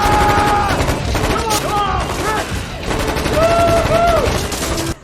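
Gunfire in a film scene as a gunman storms into an office shooting, a loud, dense clatter of shots running throughout, layered with whistling, wailing tones.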